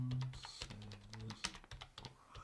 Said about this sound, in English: You could have stopped typing a long time ago.